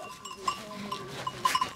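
Sheep bleat on a farm, with a shepherd's flock nearby. A few short calls come through over low background noise.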